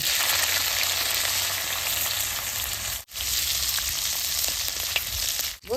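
Chili frying in a pan of hot oil for an old-style grandmother's recipe, a steady dense sizzle that runs almost without a break, cutting out briefly twice, close and loud with no talking.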